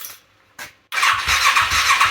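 A Yamaha XS400 cafe racer motorcycle engine cranks over on its first start, a couple of brief starter bursts followed by a sustained, loud churning spin close up.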